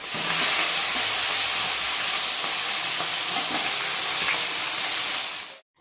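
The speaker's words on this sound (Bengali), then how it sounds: "প্রথমে মাছের মাথাগুলোকে ভেজে নিতে হবে।" Hilsa fish heads frying in hot oil in a kadai, a loud continuous sizzle and hiss with faint stirring, cutting off abruptly at the end.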